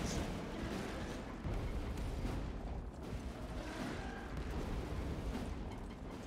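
Grenades explode in a Warhammer 40k: Space Marine II battle. There is a dense, continuous barrage of booms and gunfire-like blasts at a fairly steady, moderately loud level, with no clear speech.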